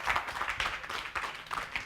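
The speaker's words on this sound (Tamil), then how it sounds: "ஒரு அரங்கம் நிறைந்த கைத்தட்டல் கொடுக்கலாம்." Audience applause filling a hall, a short burst of steady clapping from many hands at moderate distance, fairly soft and even throughout.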